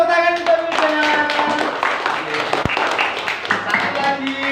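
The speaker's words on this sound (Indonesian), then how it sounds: "Beri tepuk tangan untuk Bildan." Students in an Islamic studies classroom clap for a classmate, a dense run of hand claps lasting several seconds, with voices and chatter mixed in throughout.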